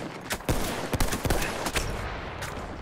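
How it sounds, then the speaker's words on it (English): Battlefield 1 gunfire: a handful of sharp, close shots in a quick irregular burst over a noisy battlefield background. "Getting shot from behind."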